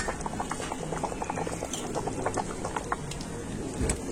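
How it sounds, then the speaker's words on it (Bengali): A pot of country chicken curry with potatoes bubbles on the stove, a soft, continuous patter of popping bubbles and simmering liquid at low, steady volume. "তো তরকারিটা একটু ফুটে গিয়েছে।"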